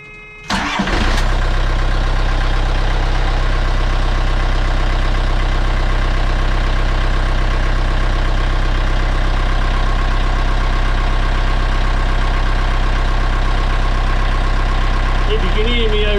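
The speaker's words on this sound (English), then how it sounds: "and we'll just start the engine." A car engine starts after an oil change: a brief cranking burst, then the engine catches and settles into a steady, loud, close idle with a constant low hum for the rest of the clip.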